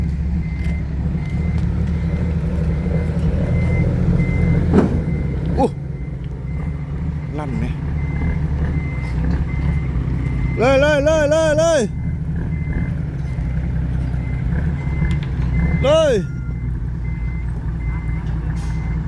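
A tractor truck hauling head reverses with a loud, close engine rumble, while a series of sharp, tonal reversing beeps sound in short bursts. Air hisses and people talk nearby.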